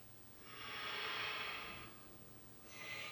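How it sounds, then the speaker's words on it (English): Steady breathing during a vinyasa yoga flow, one long audible breath lasting over a second, then a second breath starting near the end, close and soft with no talking. "Breathing."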